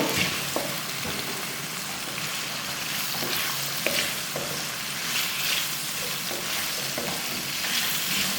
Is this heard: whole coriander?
yes